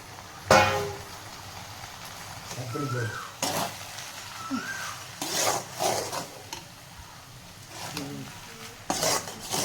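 A utensil stirs and scrapes leftover cooked rice in a pan, with several sharp clinking strokes against the metal at an uneven pace over a faint sizzle, close and fairly quiet, with brief voices in between.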